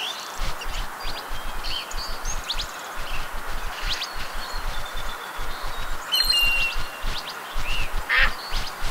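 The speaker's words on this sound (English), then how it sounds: "Okay, John Luke, let's hunt some ducks." Ducks in the Duck Dynasty video game quack in a steady rhythmic series of loud, close calls over a rustling outdoor background, with a few brief chirps, no talking.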